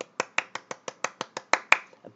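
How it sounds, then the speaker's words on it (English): A round of applause for a student during a live-streamed English lesson: about a dozen sharp, evenly spaced claps in a quick steady rhythm, close and moderately loud, with no talking. "Okay, well, I think we give a big clap."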